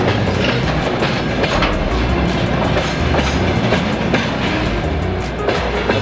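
Freight train wagons rumble past close by, with a continuous heavy roll and repeated clickety-clack of wheels over rail joints.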